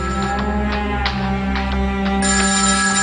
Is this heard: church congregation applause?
no